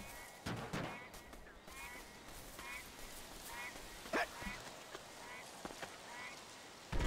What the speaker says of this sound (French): Il y a des canards et tout.